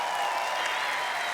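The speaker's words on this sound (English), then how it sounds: "There's a big smile on your face still, so big round of applause, everybody." Crowd applause at a drift event in Ireland, a dense, steady roar of clapping at moderate level throughout with no talk over it.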